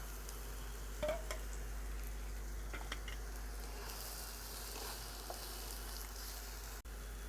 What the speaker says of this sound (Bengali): আলু বেগুন মোটামুটি ভাজা হয়ে গেছে